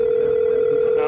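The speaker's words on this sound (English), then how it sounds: "So I'm going to actually pick up the phone. You're going to hear it. It's a regular phone." A regular IP desk phone picked up, giving a steady, loud, unbroken dial tone held for about a second with no talk.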